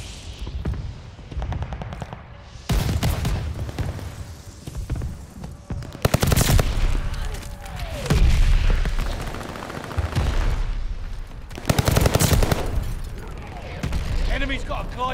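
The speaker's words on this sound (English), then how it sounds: "Enemy shells coming in hot." Explosions and heavy gunfire from incoming artillery shells in the Call of Duty: Vanguard video game, with repeated loud booming bursts over continuous rattling fire and a player's voice talking throughout.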